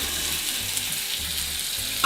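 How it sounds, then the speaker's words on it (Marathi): Broad beans fry in hot oil in a wok, giving a steady, close, dense sizzle that continues without pause and with no talking. "आता तेल गरम झालेलं आहे आपण पटाडे शेंगा तेलामध्ये घालूया"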